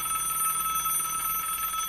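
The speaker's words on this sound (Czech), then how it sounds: "Když v tom detektivovi začal zvonit telefon." A telephone rings continuously in a detective's office, a steady, bright, bell-like trill that holds at an even level for the whole moment with no voices.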